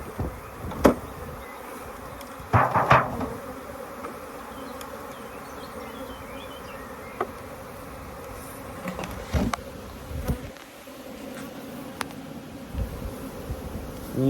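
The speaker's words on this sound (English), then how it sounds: "all the bees flying back to the same place" Honeybees hum in a dense, continuous buzz throughout as they are knocked down into the bottom of a hive. Occasional sharp knocks and handling thumps come close by, and no one speaks.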